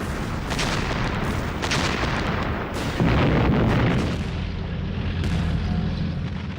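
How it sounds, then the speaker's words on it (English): Heavy artillery blasting a building at point-blank range during WWII street fighting: a continuous loud roar of booms and rumbling bursts, with a heavier low surge midway through, dense and close throughout. "they blasted the building at point-blank range with heavy artillery"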